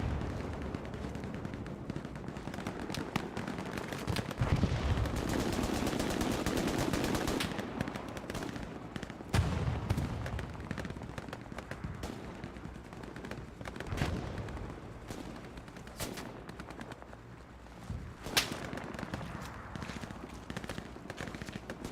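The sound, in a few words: gunfire in Hell Let Loose World War II video game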